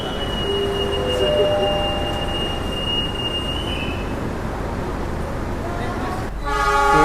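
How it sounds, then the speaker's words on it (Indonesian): The Mutiara Timur passenger train departs a Surabaya station, a loud rail rumble with high metallic wheel squeal and a short horn toot near the end, while voices talk in the background. "PPK-nya udah siap-siap nih untuk memberangkatkan kereta api Mutiara Timur"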